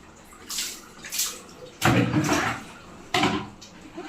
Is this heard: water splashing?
yes